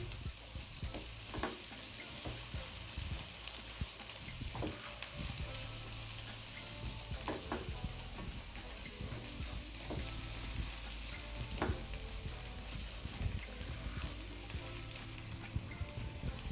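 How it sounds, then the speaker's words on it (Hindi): Spice paste fries with mutton brain and eggs in a pan, giving a dense, steady sizzle and crackle with occasional spatula scrapes, close and continuous, with no voices. "पेस्ट को भी अब इसके साथ भून लेंगे और इसको तब तक पकाएंगे जब तक कि इसका कच्चापन दूर नहीं हो जाता।"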